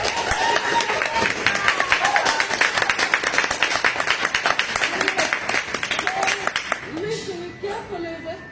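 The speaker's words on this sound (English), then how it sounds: "Let's give him a huge round of applause." Audience applause at a Toastmasters Halloween party tall-tales contest, brisk, dense clapping from a room of people with chatter and a few voices over it, the clapping tapering off toward the end.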